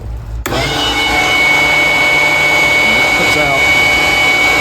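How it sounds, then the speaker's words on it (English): A bilge blower fan in the engine compartment of a Kawasaki Teryx4 switches on abruptly and keeps running with a loud, steady whooshing drone, while a voice speaks faintly underneath. "that thing puts out a lot of air and takes a lot of heat out of the engine compartment"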